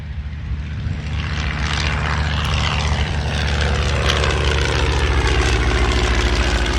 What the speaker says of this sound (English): here comes the Fleet 16B. Listen to the sound of this engine.